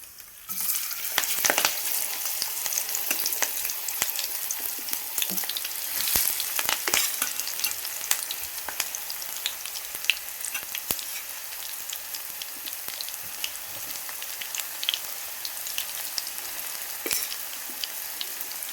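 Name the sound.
okra deep frying in oil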